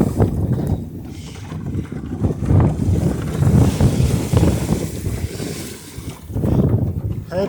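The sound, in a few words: sailboats and boat traffic on water in wind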